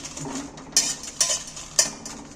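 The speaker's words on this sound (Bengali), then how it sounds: "লঙ্কাগুলো আমি শুকনো খোলায় ভেজে নেব" Very hot dry chillies roasted in a dry pan for Hyderabadi-style mango pickle: three sharp metallic scrapes and clinks of a utensil stirring against the pan, with a faint crackle underneath.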